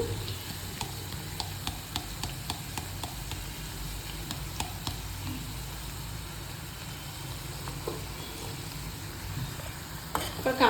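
Spices fry for a chilli boondi curry with a steady background sizzle, punctuated by quick tapping clinks of stirring early on and a few louder scrapes near the end, close but fairly soft.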